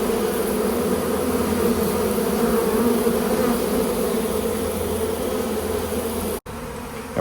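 A dense, continuous drone of a honey bee swarm buzzing close by, steady and loud, with a brief cut near the end.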